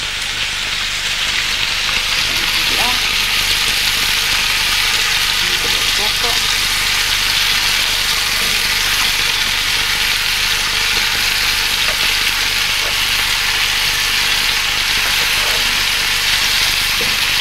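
Onion, bell pepper and green onion sizzle loudly in a hot pan, a dense, constant crackling hiss that holds steady with faint scraping from stirring underneath.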